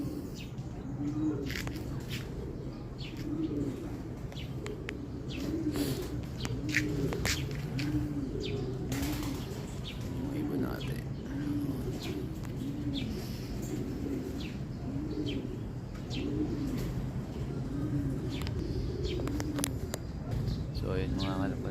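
Racing pigeons coo in a repeated, rhythmic series of soft rounded calls throughout, with scattered chirps and clicks nearby, during a 550 km race in Catbalogan.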